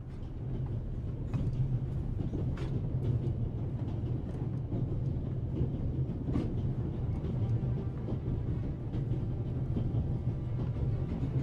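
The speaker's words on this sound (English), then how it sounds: "on an out-of-control train in the Alps" A runaway train speeding through the Alps in the adventure game The Raven: a steady, dense rumble of wheels and carriages with faint rhythmic clicks, continuous and unbroken, no voices.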